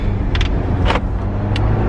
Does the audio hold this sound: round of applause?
no